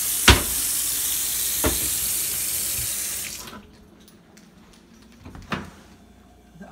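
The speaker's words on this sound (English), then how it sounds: "Leak." Water from a leak pours and splashes steadily for a few seconds, then cuts off, leaving a quiet room with a few faint knocks and clicks.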